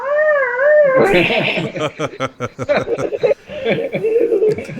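A person's voice howls and barks in imitation of a dog, a rising wavering call followed by a run of choppy yelps, loud and close.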